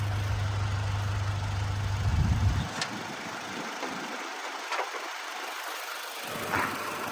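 Idling 2011 Toyota Fortuner with a 2.7 VVTi engine runs as a faint, steady low hum heard near the engine bay, with a few brief clicks and light noises.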